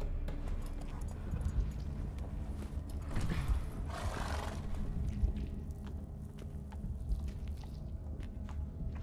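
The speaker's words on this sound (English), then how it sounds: "imprison the ghost of a horse in a way like this?" A low, breathy rumble with a brief rising roar-like swell midway, set against a constant murmuring background; an eerie, spectral ghost horse sound from the video game The Witcher 3, faint and distant.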